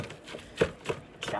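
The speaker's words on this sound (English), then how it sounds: "I take me a flat spatula like this, and I chop them before frying" A flat metal spatula chopping washed mustard and turnip greens in a strainer before frying, three or four dull, close chops in an uneven rhythm with a soft voice briefly underneath.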